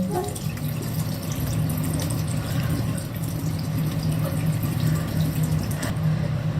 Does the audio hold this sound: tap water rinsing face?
yes